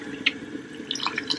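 Water pouring in short trickles and drips into a pot of soft prunes for a tagine, close and fairly quiet, with a steady low background hum.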